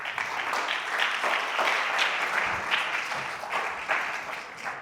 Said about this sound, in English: Please give him applause.